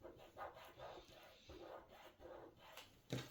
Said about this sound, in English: Keep scraping.